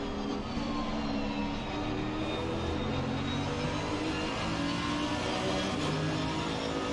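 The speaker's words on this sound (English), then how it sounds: "This is such a horrible bruiser of an engine though." A GT3 race car engine in Assetto Corsa Competizione at the Nürburgring GP roars steadily and harshly at high revs, a loud, continuous drone with no voices over it.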